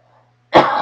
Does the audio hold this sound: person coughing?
yes